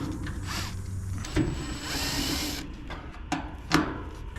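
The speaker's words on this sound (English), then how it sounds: "So I'll take out the rest of these screws and we'll take off the cover." A magnetized nut driver backs screws out of the sheet-metal cover of an A/C unit. A close mechanical whir runs for a second or so, then short rattles and clicks follow as the screws come loose.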